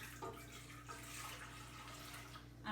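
Warm water poured into a large bowl for pretzel dough makes a soft, steady splashing trickle, fairly quiet and close, with no one speaking.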